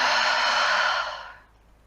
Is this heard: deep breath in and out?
yes